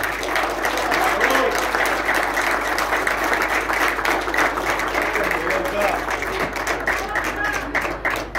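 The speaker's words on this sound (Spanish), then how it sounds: "pedimos un aplauso para todos ellos" A crowd applauds hospital cooperative staff at an endurance race awards ceremony, dense steady clapping throughout, with some voices mixed in.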